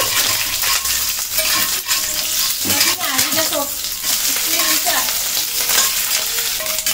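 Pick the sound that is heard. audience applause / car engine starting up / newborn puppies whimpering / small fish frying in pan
small fish frying in pan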